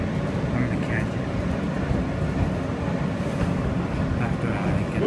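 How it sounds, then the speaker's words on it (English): An R160B subway train on the N line in New York rumbles past, a steady loud roar of wheels and motor noise throughout with no clear breaks. "And there's an R160B train."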